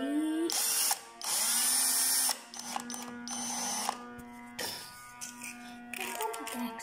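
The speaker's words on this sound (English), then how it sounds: "I can fix it with the drill." A toy-like drill whirs and ratchets during a clay-animation Pokemon scene: two loud mechanical bursts near the start, then softer clicks and rattles trailing off.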